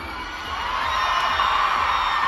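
Large crowd at a K-pop fan meeting in Manila yelling and cheering, a dense continuous roar that swells slightly and holds steady, loud and filling the space.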